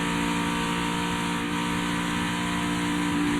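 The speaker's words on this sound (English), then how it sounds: "you can hear how sick that engine is" NASCAR Xfinity Series carbureted race engine at Kansas, sick and running out of fuel, heard from inside the car as a steady, loud, rough drone with a buzzing harmonic whine throughout, no voices.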